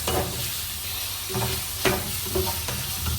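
Prawns stir-frying in a pan with pepper, salt and chili for Hakka noodles, a continuous close sizzle broken by several brief scraping stirs of a utensil.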